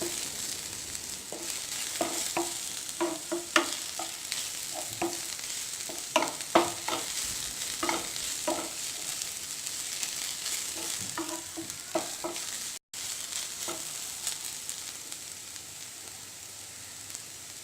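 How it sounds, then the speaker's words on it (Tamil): Ginger, garlic, fennel seeds and peppercorns frying with onions in a pan, a continuous sizzle broken by repeated scraping and stirring knocks, close and fairly loud throughout. "ஒரு 1 மினிட் வந்து நம்ம ஃப்ரை பண்ணால் போதும்."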